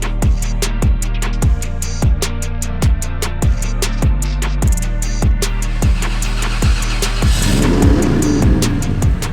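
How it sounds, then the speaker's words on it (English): Drift car with an N54 six-speed transmission, its engine droning loud and close with a regular pulsing beat through repeated rhythmic surges, the pitch and roar building toward the end. "This will actually be my first time drifting with the N54 trans."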